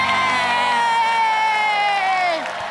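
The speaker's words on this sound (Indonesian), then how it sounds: "Tepuk tangan sekali lagi." Studio audience on the Indonesian game show Super Deal Indonesia, a loud sustained burst of cheering and shouting voices with clapping mixed in, held for nearly three seconds before easing slightly.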